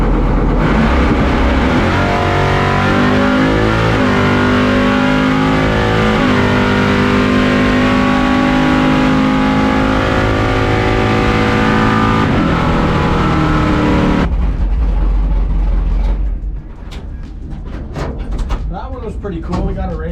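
A 700 hp C10 truck at a drag race revs hard and pulls away, a loud, sustained engine roar rising steadily in pitch for many seconds before cutting off into quieter ambient noise.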